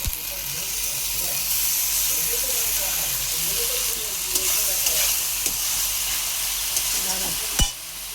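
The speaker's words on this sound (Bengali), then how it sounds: "এবার দিয়ে দেব মশলা বেটে রেখেছি, আদা রসুন টমেটো কাঁচা লঙ্কা একসাথে পেস্ট করেছি, এটা দিয়ে দেব" A paste of ginger, garlic, tomato and green chili sizzles loudly in a pan with browned onions, a steady close frying hiss with a few scrapes of stirring and one sharp knock near the end.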